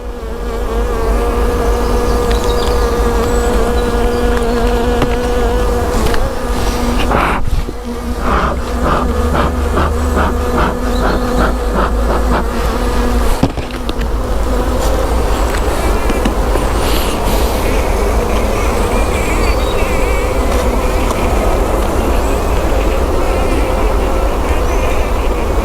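Buckfast honey bees swarm around an open hive during a frame inspection, a dense, loud, continuous buzzing very close by with individual bees droning past, and no talking.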